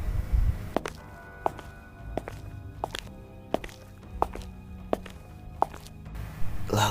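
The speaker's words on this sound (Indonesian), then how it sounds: "di telinganya dia mendengar suara langkah kaki" Footsteps in an audio story, about ten hard, evenly spaced steps on a wooden-sounding floor, close and distinct against a quiet low background.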